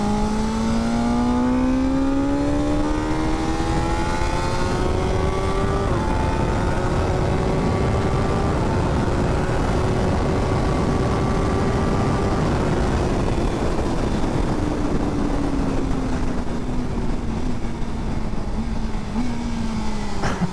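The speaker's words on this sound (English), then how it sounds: "The quick shifter blipper on this bike is just amazing." A 2025 BMW S1000R motorcycle engine revs hard on a track at Almeria, with rising pitch through quick-shifter upshifts and blips, a loud, continuous close-up engine roar with no talking.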